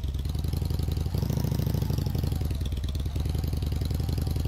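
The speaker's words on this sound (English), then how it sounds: "Hey, my motorcycle rolled right out." A motorcycle engine in Roblox Bloxburg runs in a steady, close, loud, rapid pulsing putter that swells slightly partway through and keeps going without a break, with no talking.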